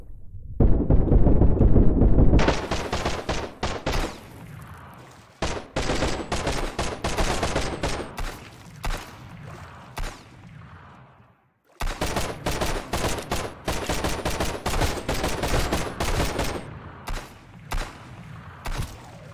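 Rapid bursts of gunfire in the survival video game Sunkenland, long dense volleys of shots with a short pause between them, loud and close, no speech.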